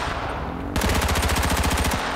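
An AK rifle in the video game H1Z1 fires a loud, rapid, sustained automatic burst of about a dozen evenly spaced shots that stops abruptly after roughly a second.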